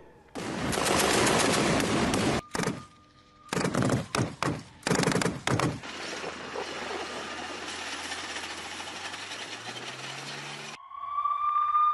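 Loud bursts of gunfire in the Gaza Israel conflict, rapid volleys broken by short pauses, then a sustained roar of shooting that fades into a lower rumble before a tone rises.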